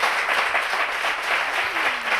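Warm, sustained applause from a concert audience, a thick uninterrupted patter of many hands clapping at once with no gaps.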